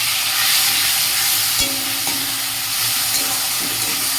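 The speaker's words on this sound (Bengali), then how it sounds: "এবার এই মশলাটা দেবো মশলাটা দিয়ে করছি এমনি ভাজা ভাজা হয়ে গেছে" Masala fries and sizzles in a pan for a pointed gourd curry, a steady close hiss broken by a few stirring scrapes.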